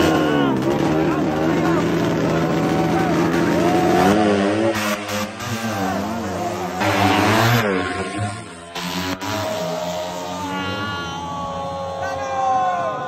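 Loud motorcycle exhausts revving and droning on a city street, rising and falling in pitch almost without a break, with a voice talking briefly over the engine noise.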